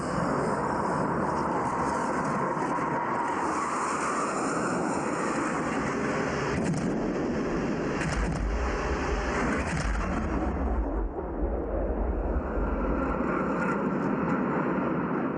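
Dassault Rafale fighter jets pass overhead on a bombing run, a loud, continuous roar that builds and shifts over several seconds, with a deep low rumble joining toward the end.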